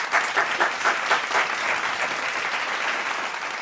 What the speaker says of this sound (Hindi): जोर से तालियों से स्वागत करें।